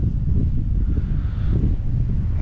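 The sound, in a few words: wind blowing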